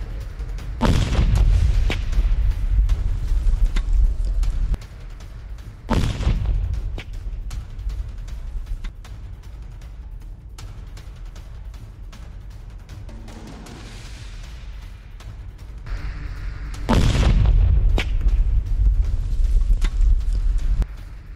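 Several heavy booms from a drone attack in Belgorod, Russia erupt with broadband blasts, loud and close, separated by quieter rumbling stretches; no talk.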